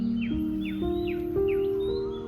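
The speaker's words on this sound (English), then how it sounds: "the birds." Crows cawing at dawn on the Thai island of Koh Samui, a bird giving a rhythmic series of four harsh descending caws, close and clear over a faint steady hum.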